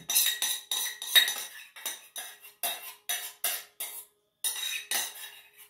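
Melted butter, two tablespoons cooled slightly, is transferred into a bowl with a series of light metal-on-dish clinks and scrapes in a steady rhythm, close and fairly quiet, with no voices.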